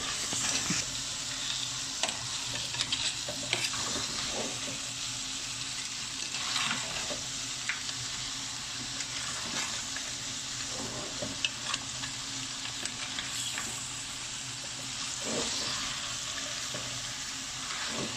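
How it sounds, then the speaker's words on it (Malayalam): Crab coated in masala fries in hot oil while being stirred again and again, a steady close sizzle broken by repeated scraping strokes of the spoon, with no talking. "ഇട്ട് നന്നായി ഇതേപോലെ തന്നെ ഇനി അടുത്ത ഇളക്കൽ തുടങ്ങിക്കൊണ്ടിരിക്കുകയാണ് നന്നായി ഇളക്കി ഇളക്കി ഇളക്കി ഇളക്കി യോജിപ്പിക്കുന്നുണ്ട്"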